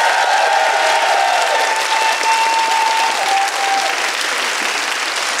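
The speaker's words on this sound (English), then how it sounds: "can I have one more round of applause for the brilliant panel?" A dense, loud round of applause from an audience for a discussion panel, a continuous wash of clapping that stays even throughout.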